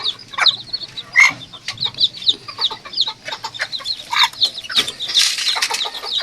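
Serama bantam chickens and their chicks cluck and peep close by, a busy run of short chirps and clucks with no talk.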